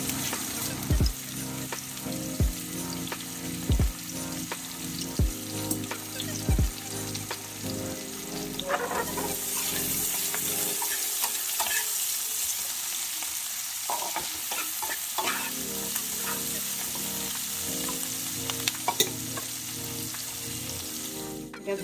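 Stingray fish pieces sizzle steadily in a pan of hot oil for curry. A few sharp stirring knocks come early, then a continuous loud crackling fry runs throughout with no one talking.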